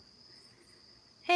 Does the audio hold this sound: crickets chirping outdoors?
yes